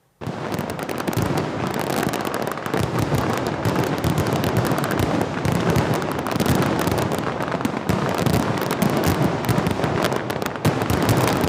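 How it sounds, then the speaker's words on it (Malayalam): Sample fireworks display at Thrissur Pooram, a temple festival in Kerala: a dense, continuous barrage of loud explosions and crackling firecracker strings, sustained without pause for the whole stretch, booming and close. "പൂരനഗരിയുടെ മാനത്ത് കരിമരുന്നിൻ വിസ്മയം തീർത്ത് സാമ്പിൾ വെടിക്കെട്ട്"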